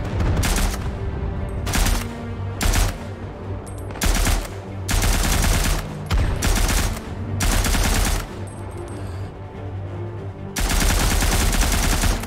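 Loud bursts of rifle and machine-gun fire in the First World War shooter Isonzo come in a series of rapid volleys separated by short pauses, close and dominant, with no speech over them.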